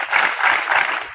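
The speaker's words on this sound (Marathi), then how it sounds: "बघा, जोरदार टाळ्या वाजवायच्या मुलांनी" Schoolchildren clapping on cue at a Hanuman Vidyalaya prize ceremony, a dense steady patter of many small hands lasting the whole moment, moderately loud and without speech.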